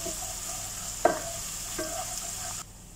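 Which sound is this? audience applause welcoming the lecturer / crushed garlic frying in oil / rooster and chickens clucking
crushed garlic frying in oil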